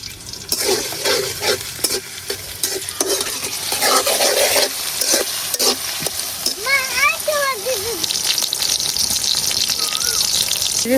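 Garlic sizzles loudly in hot white oil in a home kitchen as khichuri is cooked, with steady frying hiss, scraping stirs, and a brief rising tonal squeal midway.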